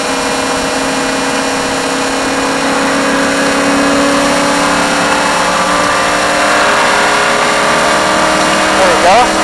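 A NASCAR stock car on a track accelerates steadily as the throttle is squeezed back on, with a loud continuous engine drone rising in pitch and a voice talking over it.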